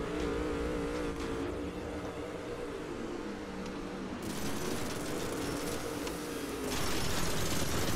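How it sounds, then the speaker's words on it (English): An Aston Martin DB5 engine drones steadily while driving in the Trail Out racing game, a continuous mechanical rumble that swells in intensity partway through and grows louder toward the end. "driving an Aston Martin DB5"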